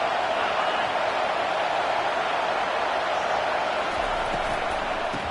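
A football stadium crowd in a college game roars steadily as a team is pinned deep in its own end, a dense, continuous wash of cheering heard from a distance with no pauses.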